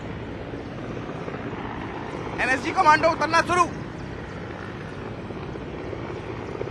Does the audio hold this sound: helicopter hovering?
yes